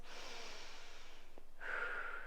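Breathing during a yoga pose, with a long, soft airy inhale, a brief pause, then a sharper, louder exhale close to the microphone and nothing else.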